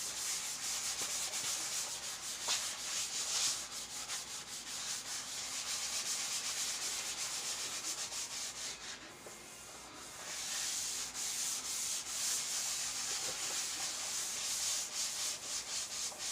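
Continuous rasping strokes of hand sanding, scuffing epoxy primer on the body of a 1970s Pontiac Trans Am, close and steady with a short pause midway, no talking.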